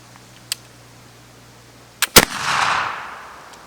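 A flintlock gun fires: a faint click, a sharp snap as the flash pan ignites, then a split second later a loud close shot with a long rumbling tail fading out.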